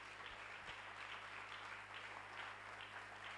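Church congregation applauding during a Sunday service, a steady dense patter of many hands clapping throughout, moderately loud over a low hum, without distinct cheering.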